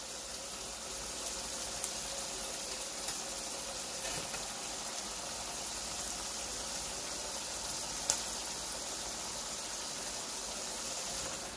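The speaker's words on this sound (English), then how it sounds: "All sizzling in olive oil." Potatoes sizzle in olive oil, a steady, dense crackling hiss that stays even and close throughout, with a few small pops and no talking.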